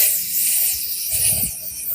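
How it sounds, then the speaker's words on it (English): Lubricant sprays onto the door latch of a 2000 Chevy Silverado in a steady, close hiss that runs through the whole moment, with a brief low thump partway through. "Just spray and lube everything"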